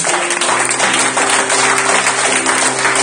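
A church congregation at a Sunday service bursts into steady, loud applause, a dense wash of clapping that holds evenly throughout with a faint sustained tone underneath.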